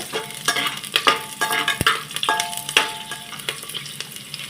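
Garlic and green chilli pieces fry in hot oil in a pan, a steady crackling sizzle broken by sharp pops and a few stirring scrapes, close up with no voices.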